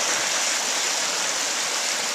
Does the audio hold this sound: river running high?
yes